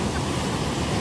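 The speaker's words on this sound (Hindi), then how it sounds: "गाइस पानी की आवाज सुनो आप लोग, इतनी आवाज आ रही है ना पानी की" Ocean waves at Kashid Beach in Alibaug make a loud, dense rush of surf and wind close by, steady throughout.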